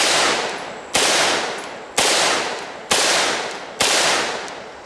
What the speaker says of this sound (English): Now we're going to shoot the Grand Power Stribog SP9A1.